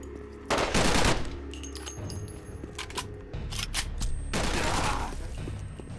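Automatic machine gun fire in the shooter game Terrorist Takedown 2, loud sustained bursts close up, separated by brief pauses and mechanical clicks.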